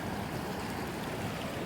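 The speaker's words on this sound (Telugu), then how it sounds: "వాటర్ ఫాల్ దగ్గరికి వచ్చాం మనం" A waterfall in hilly forest near Paderu sends up a steady, dense roar of rushing water that fills the whole moment with no voices.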